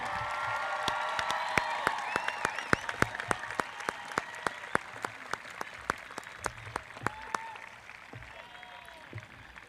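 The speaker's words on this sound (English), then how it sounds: "Round of applause for our graduates and the students that just announced them" A graduation audience at the Boonsboro 2022 ceremony breaks into sustained applause for the graduates, a crowd of hands clapping steadily before thinning to scattered claps and fading out near the end.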